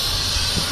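Air hisses continuously from a leaking air ride suspension on a trailer with a broken level rod, a close, steady, loud rush with no voices.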